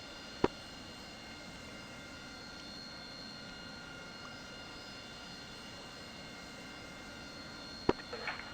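AV-8 Harrier jet engine on a carrier deck during night landing practice, a steady droning whine held at a constant level, with brief clicks of radio keying at the start and near the end.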